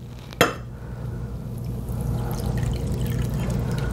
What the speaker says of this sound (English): I'm going to add in a cup of warm water.